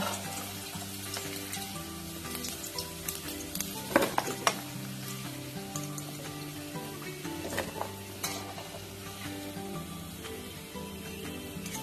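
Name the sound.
chicken frying in a pan until crispy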